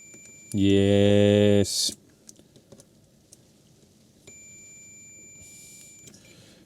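A multimeter on continuity test gives a loud, steady beep lasting about a second, checking a bridge rectifier during a no-power fault repair, followed by light clicks and a quieter second tone.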